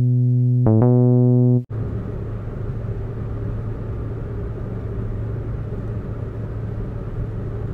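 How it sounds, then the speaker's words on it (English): A car driving down a road, a steady low engine rumble and road noise that continues evenly after a brief musical tone at the start. "Blake is driving down the road."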